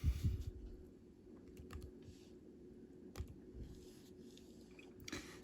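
Quiet clicks of a computer keyboard as a short number is typed, a few scattered light keystrokes over a low room hum, close and faint.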